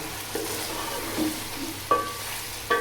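Large mutton pieces frying in a karahi for karahi gosht, a continuous sizzle punctuated by a few distinct spatula scrapes and clinks against the pan, with no talking.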